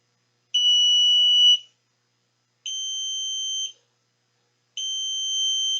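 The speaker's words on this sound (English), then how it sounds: "I think you can hear the alarm" An alarm buzzer switched on by a Raspberry Pi's GPIO pins sounds three shrill, steady electronic tones of about a second each, evenly spaced with silent gaps between, loud and close.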